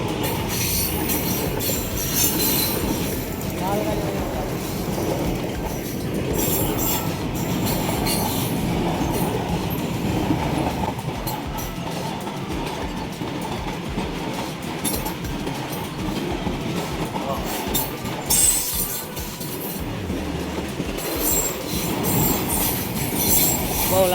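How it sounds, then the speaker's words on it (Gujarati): A long freight train rolls past nearby for over twenty seconds, a continuous loud rumble of wagons with rhythmic clatter over the rail joints and high metallic wheel squeal rising and falling. "આ તો માલગાડી છે"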